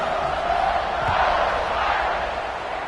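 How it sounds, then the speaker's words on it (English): A packed football stadium crowd at an Oklahoma at Notre Dame game, buzzing after a score late in the fourth quarter: a dense, steady roar of many voices that holds loud and even throughout. "this crowd is buzzing after that last score"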